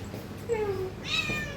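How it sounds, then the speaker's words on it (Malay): A cat at an exotic animal shop and mini zoo in Klang lets out two short, close meows, the second higher and brighter, over low background hum. "Beware of the cat. Ada kucing tu."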